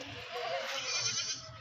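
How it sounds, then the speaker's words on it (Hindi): A goat, a black panda breed raised at home, bleats faintly in a drawn-out, wavering call lasting under two seconds against quiet background noise. "ब्लैक पांडा एक बकरा लेकर हूँ"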